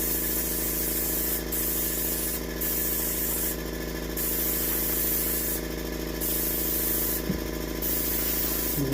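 Aerosol can of base coat sealer spraying onto an artificial skull for a European horn mount, five or six short hissing bursts of about half a second each over a steady background hum, close and fairly loud.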